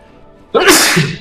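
A single loud, close sneeze from an allergy to dust and air bursts out of near silence during a spoken sermon, with a sharp onset and a breathy tail.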